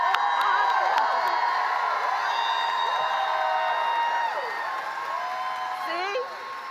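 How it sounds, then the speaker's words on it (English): A dense crowd at a political rally in Raleigh, North Carolina keeps up a steady roar of cheers, whoops and applause, easing slightly in loudness toward the end. "Let's applaud them."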